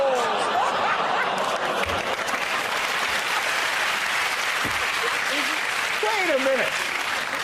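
Studio audience applause on a comedy panel show keeps up continuously, with scattered chuckles and someone speaking over the clapping.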